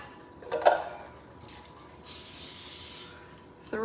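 Cooking spray hisses onto baking pans for pumpkin bread in a home kitchen, one short spurt followed by a longer steady spray, then a quick third burst, in a quiet room.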